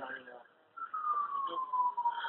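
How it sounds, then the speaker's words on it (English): An emergency vehicle siren passing in the distance, heard over a phone line during an emergency call. It is faint, with a single drawn-out wail that slowly drops in pitch as it goes by. "I hear the sirens."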